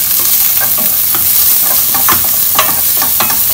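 Chopped onion with red chili frying and being stirred in a pan over a high flame, a steady loud sizzle with scraping spatula strokes throughout, no voices.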